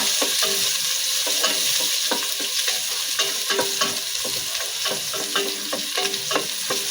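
Ginger and garlic sauté in a hot pan for a fish stew, a steady close sizzle broken by repeated scraping and clinking of a spatula as they are stirred, with no talking.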